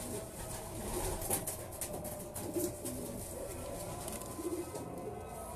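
A racing pigeon coos in a few soft repeated low phrases over a steady background hiss and faint patter, close by with no speech.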